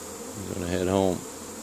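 Honeybee with full pollen sacks foraging among spring blossoms in Caribou, Nova Scotia, giving a brief close buzz that swells and fades over about a second against a soft outdoor background.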